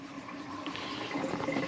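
Water runs steadily from a newly installed sink faucet in an RV, a close, continuous splashing stream heard alone for a moment.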